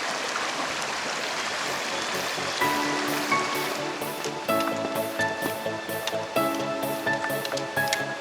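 Mountain stream flowing beside a trekking trail in the Annapurna region of the Himalayas, a continuous close rush of water, with faint clinks and tones above it from around the second half onward.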